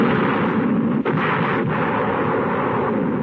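Aerial bombing of Shanghai in September 1937 comes across as a loud, continuous roar of blasts and rumbling detonations, with a sharp crack partway through, dense and heavy like distorted archival war footage.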